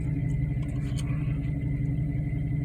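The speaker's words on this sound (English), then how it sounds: "Idle smooth, sounds good." A car engine idles smoothly after an exhaust repair, a steady low rumble heard close and loud without change for the whole stretch.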